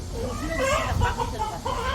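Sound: chicken crowing

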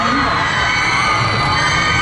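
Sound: fans screaming

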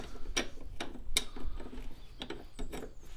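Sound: 21mm spanner tightening Renault Laguna axle bush bolt

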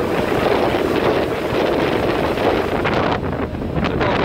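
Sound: ferry boat crossing sea from Korčula to Orebić, wind

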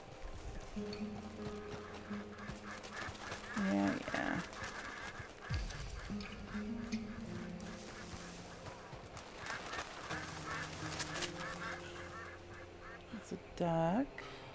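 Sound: ducks quacking in video game Red Dead Redemption 2

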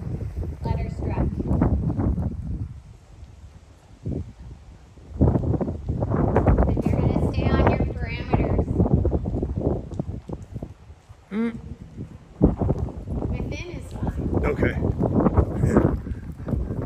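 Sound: wind blowing on microphone

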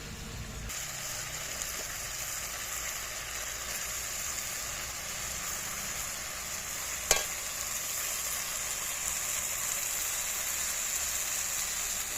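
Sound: banana flower (mocha) added to spiced oil, frying

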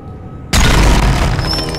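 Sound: explosion in the video game Jade Empire

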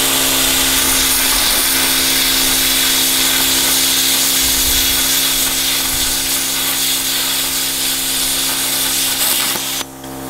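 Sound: compressor-free plasma cutter cutting 3 mm metal

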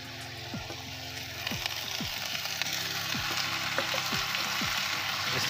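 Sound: bigos stewing in a pot

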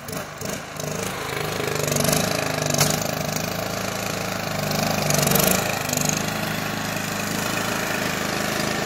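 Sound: lawn tractor engine sputtering, low on gas

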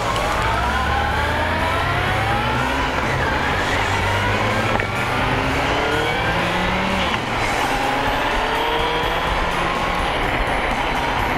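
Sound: Honda CB750 motorcycle riding in the rain

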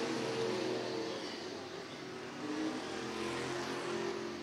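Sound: street stock race cars racing at Bubba Raceway Park

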